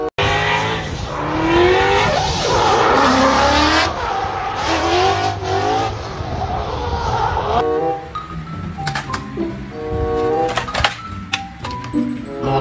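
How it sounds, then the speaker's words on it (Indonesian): A race car engine roars and revs with squealing tires. The sound is loud and continuous for several seconds, then thins into shorter bursts and clicks. "Mobil balap."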